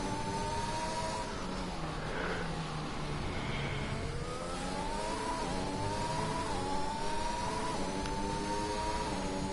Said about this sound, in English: Man, you are revving that engine for all it is worth.